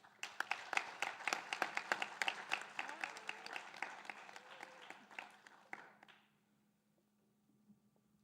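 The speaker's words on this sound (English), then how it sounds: "Let's give one more round of applause for all of our members." Audience claps at an awards banquet for an FFA chapter, a quick burst of hand claps that is fairly close and busy, then thins and dies away to near silence with a low hum left.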